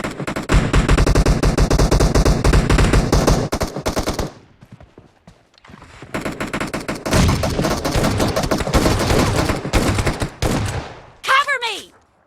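Bursts of S12K shotgun fire in PUBG Mobile: loud, rapid repeated blasts for about four seconds, a brief lull, then another sustained volley, ending with a short rising electronic effect.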